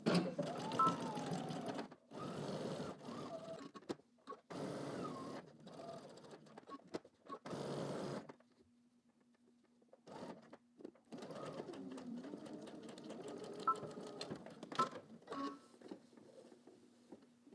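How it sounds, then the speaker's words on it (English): A sewing machine stitches a 5/8 inch seam from top to bottom, running in several close bursts with brief stops, then a quiet hum and more stitching with light clicks. "We're going to stitch using 5/8 of an inch, starting at the top, going all the way down to the bottom"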